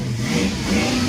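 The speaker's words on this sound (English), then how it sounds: "I'm unmuting the feed now just so I can hear the revving" A rocket engine revving heard over a livestream feed during a Starship flight, a steady mid-low mechanical drone with shifting tonal bands, continuous and fairly loud throughout the short stretch.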